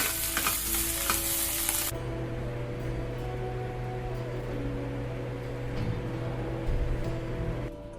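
Kerala-style clam (kakka) fry sizzling in coconut oil in a pan over a medium-high flame. A loud hiss for the first two seconds settles into a steady, softer sizzle, with no voices.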